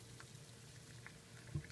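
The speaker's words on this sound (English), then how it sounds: "Boiling water." Boiling water bubbling softly, a faint continuous low simmer with a small pop near the end, heard alone.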